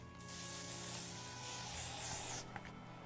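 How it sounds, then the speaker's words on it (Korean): Hair spray is sprayed onto hair styled in a ponytail, one long continuous hiss lasting over two seconds that cuts off sharply, followed by a brief soft rustle, close and alone. "스프레이 뿌려서"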